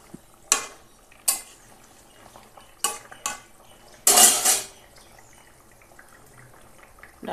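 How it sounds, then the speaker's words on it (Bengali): A spoon knocks against a metal pot while rui fish curry with drumstick stems and potato is stirred, several sharp clanks spaced out and one longer scraping burst, close and clear, with no talking. "হালকা করে একটু নেড়ে দেবো।"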